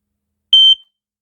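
A single sharp, piercing electronic beep from a Kidde Australia smoke alarm during a test, very brief and loud, surrounded by silence.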